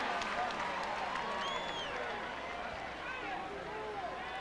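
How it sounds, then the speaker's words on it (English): A football stadium crowd at an Oklahoma Sooners college game cheers after a touchdown, a broad, sustained roar with whistles and shouts rising over the din, while a commentator talks over it. "Third touchdown of the day for Quentin Griffin, and Sooner fans have reason to cheer early in the third"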